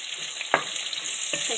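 Asparagus stirred with a wooden spatula in a non-stick pan, two short scraping strokes rising over a steady low sizzle.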